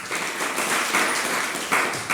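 Audience applause breaks out at a Hindi motivational talk, a steady, dense wash of many hands clapping that fills the hall and swells briefly near the end, with no voice over it.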